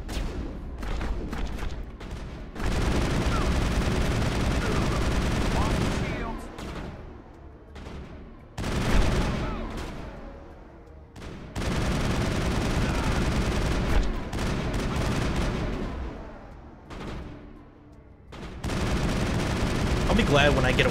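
Weapon fire in the Mass Effect video game rattles in long sustained bursts separated by brief quiet gaps, loud and close, with tails of echoing booms between volleys.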